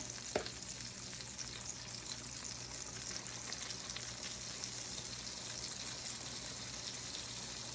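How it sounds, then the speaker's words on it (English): Potatoes sizzling in butter in a casserole dish, a faint, steady frying hiss that continues evenly throughout with a small knock near the start and no talk. "I have my butter in my casserole dish. I'm going to add my potatoes."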